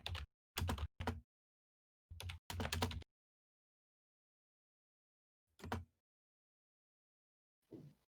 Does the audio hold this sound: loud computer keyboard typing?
yes